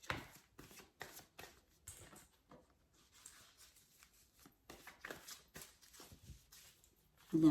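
A deck of tarot cards is cut and handled by hand, giving a run of soft, close papery slaps and riffles in uneven bursts with brief pauses between them.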